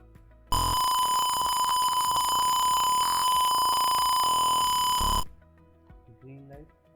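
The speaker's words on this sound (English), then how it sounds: "Green light and a beep sound indicating the process is complete." A titration bot built as a school project gives a long, steady electronic beep lasting about four and a half seconds to mark that the process is complete, loud and continuous, followed by quiet room sound with faint voices.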